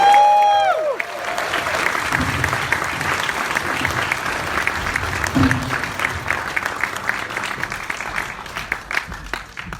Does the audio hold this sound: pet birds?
no